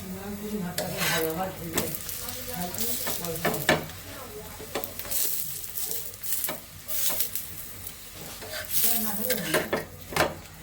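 Stirred vegetable bhaji fries in a pan with a continuous sizzle, while a utensil repeatedly scrapes and clinks against the metal. Close and fairly loud, with a voice talking intermittently over it.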